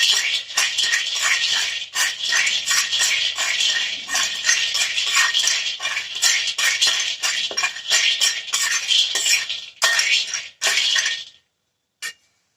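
Peanuts are stirred dry in a pan while roasting for sugar-free, ghee-free jaggery gajak. A close, continuous scraping rattle with small clinks keeps a steady pace, then stops near the end with one last short clack.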